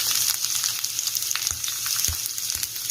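Thin-sliced cabbage fries on a hot tawa for tawa rice with a dense, continuous sizzling crackle and occasional stirring scrapes and taps, with no talking.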